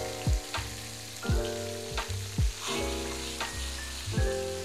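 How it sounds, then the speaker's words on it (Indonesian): Sliced shallots frying in a pan, with a soft continuous sizzle broken by several sharp clinks and scrapes of a utensil against the pan. "ini kita goreng dulu sampai bawangnya agak matang"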